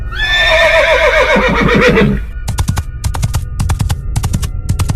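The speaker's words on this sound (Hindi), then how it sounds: "इतनी रात को जंगल में घोड़े की आवाज कहाँ से आ रही है?" A loud horse whinny rises and trembles, then sharp rapid clatters and bangs burst out in quick bunches.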